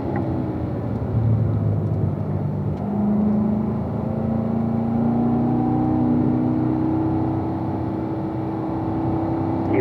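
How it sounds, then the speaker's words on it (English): A race car on a track, its engine droning steadily close by and building slowly as the car accelerates, with a continuous whirring hum and no talking. "squeeze your throttle, Mike"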